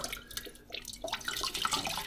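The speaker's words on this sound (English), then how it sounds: "Just rinse it off under the tap." Vegetables being rinsed under a running kitchen tap for soup: a steady, fairly soft stream of water splashing into the sink, with small drips and splatters and no voices.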